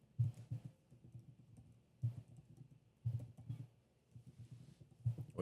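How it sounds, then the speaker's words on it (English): Computer keys are typed in short bursts of clicks, close and fairly quiet, with brief pauses between groups of keystrokes and no talking. "What are you typing?"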